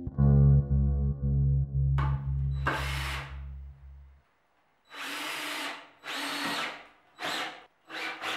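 A power drill drives screws into wood paneling over a wall, its loud motor whine running steadily for about four seconds, then stopping before several short bursts of broadband rasping and scraping that fade in and out.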